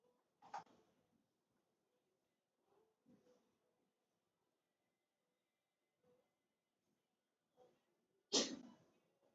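A single sharp sneeze bursts out in a quiet classroom during a math lesson, followed by a few soft breaths and small throat sounds, then a second loud sneeze near the end.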